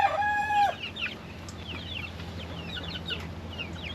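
Backyard chicken in a garden setting, a loud crowing or clucking call opening the clip, followed by scattered softer bird chirps over steady low background hum.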